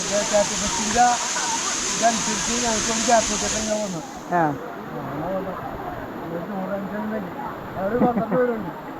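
The Aanachadikuth waterfall roars loudly and steadily under people talking for the first few seconds, then the rushing water drops away abruptly while the voices continue.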